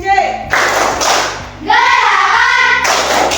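Primary school class in an Indonesian sixth-grade lesson doing a rhythmic clapping chant, children's voices chanting loudly in unison with steady hand claps and thuds keeping the beat.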